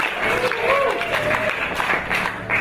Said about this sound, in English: Let's give God a big round of applause